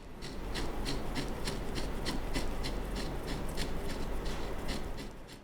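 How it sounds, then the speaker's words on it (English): A round-nose carbide die grinder bit, spun by hand in its chuck, rasps rhythmically against wood to clean the ends of slots, with a steady run of evenly spaced scraping strokes at close range. "used a round nose carbide die grinder bit. I left it chucked up and just spun the chuck by hand to clean up the ends of the slots."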